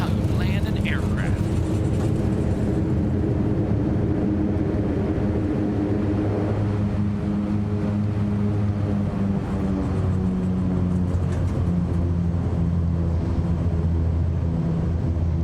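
A Black Square King Air rolls out in Microsoft Flight Simulator 2020 after landing at Bellingham, its steady turboprop drone and low engine hum filling the cabin continuously, with a person talking over it.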